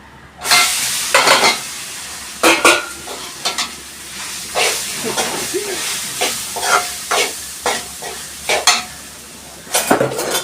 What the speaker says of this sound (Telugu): రైస్ అంతా అవేటట్టు కలుపుకోవాలి